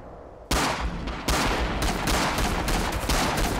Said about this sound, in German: das war ein tödlicher Schuss